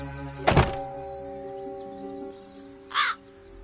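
Crows cawing in the Dark Eye video game: a sharp loud caw with a thunk early on, then a second harsh caw about two and a half seconds later over a low ambient hum.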